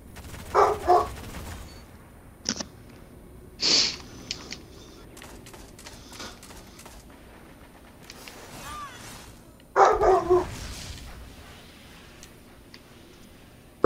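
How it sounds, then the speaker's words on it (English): A pet dog barks in a home during a gaming session, a few separate sharp barks spaced out over several seconds, fairly close and loud against a quiet background. "I don't know what he's barking at right now."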